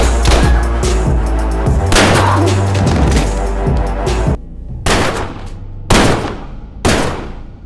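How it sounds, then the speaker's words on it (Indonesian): Film-scene gunfire: a dense burst of shots and impacts under a busy soundtrack, then three separate loud sharp bangs spaced about a second apart, each with a short decaying tail. "Tiba-tiba saja, Copperhead muncul dan segera melepaskan tembakan."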